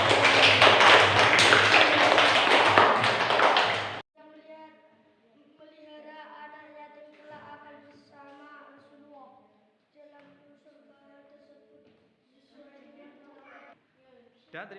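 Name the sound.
class applause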